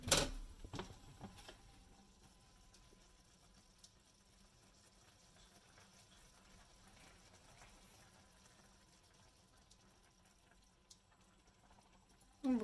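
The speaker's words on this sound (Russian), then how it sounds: "Буквально по чуть-чуть добавляет водички." Small amounts of water go into a zucchini risotto as it simmers, a quiet bubbling and liquid sound that stays faint and steady, with sharper clinks at the start and end.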